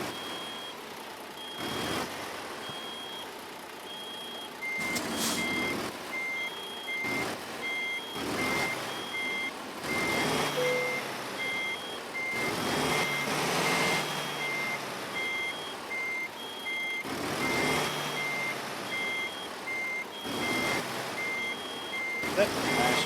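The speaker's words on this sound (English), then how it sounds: "Looking at it beeping." Truck reversing alarm in the American Truck Simulator video game, a steady series of regular electronic beeps repeating throughout, mixed with bursts of engine and air noise while backing up.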